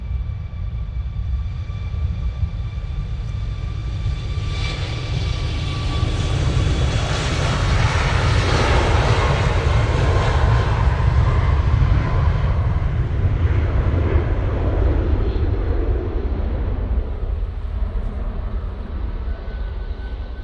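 A jet airliner rolls out on a long take-off run with a late rotation, its engines making a loud, steady roar that swells and holds close by for the whole stretch, with no talk over it.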